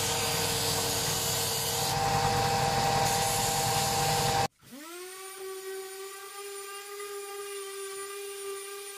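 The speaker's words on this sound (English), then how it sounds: "we're just rotating it round on the dish sander until we're up to the line" A dish sander grinds the curved edge of a pallet wood board held under firm pressure, a loud continuous abrasive rasp that stops abruptly and gives way to the sander's motor whining as it spins down and idles.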